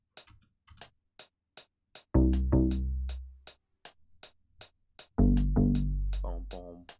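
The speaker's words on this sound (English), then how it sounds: "It's just like a donk stab thing." A donk stab bass programmed in FL Studio for an ambient jungle track hits in two short, punchy, resonant bursts, set against a steady ticking percussion pattern with no voices.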